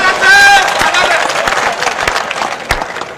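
Applause from a live audience at a Hindi kavi sammelan poetry show, a dense burst of clapping that swells loud at first and then thins into scattered claps with crowd murmur underneath.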